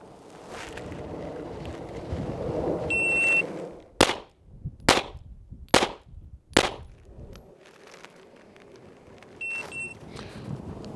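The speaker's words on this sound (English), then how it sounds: "4 shots into the number 2 target" Four sharp, loud handgun shots in a concealed carry drill from a low ready, fired at an even pace with a short electronic shot-timer beep before the string and another after it.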